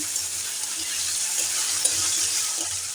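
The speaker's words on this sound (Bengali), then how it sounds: "আলুটা দুবার নাড়াচাড়া করে দিলাম" Chopped potatoes with garlic sizzle in a frying pan under a steady hiss, broken by a few soft scraping stir strokes.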